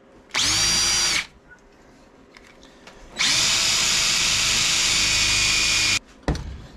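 A power drill whines loudly in two bursts, a short one and then a longer one, drilling a hole in metal on a Sportster motorcycle charging system part, close by, with quiet pauses between and no speech.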